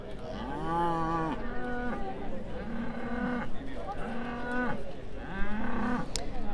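Charolais cattle at a show ring judging at the Royal Highland Show low repeatedly in long, loud moos, several calls in close succession over a busy background.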